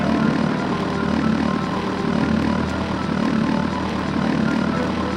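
A video game helicopter flies steadily, its continuous rotor and engine roar filling every moment at an even, loud level without pauses or voices.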